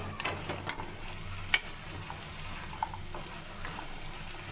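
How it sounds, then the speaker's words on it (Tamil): Fried idli pieces are stirred into a thickening manchurian sauce with a soft sizzle underneath, marked by a few light spoon taps and clicks against the pan at moderate volume. "இப்போ இந்த ஸ்டேஜில் நம்மளோட இட்லி ஃப்ரை பண்ணதை இதில் கலந்துடலாம்"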